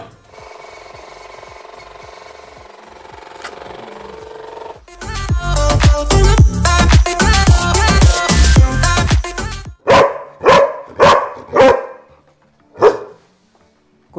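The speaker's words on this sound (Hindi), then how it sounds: "कुत्ते भौंक रहे हैं।" Several dogs barking outdoors in a village, loud close barks in a dense burst, then separate yips and barks with short pauses, after a stretch of low background noise.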